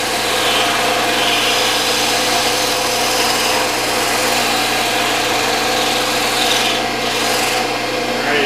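A spindle sander runs continuously in a home workshop, producing a loud, steady motor whir with rubbing, rasping abrasion. The sound stays close and even throughout.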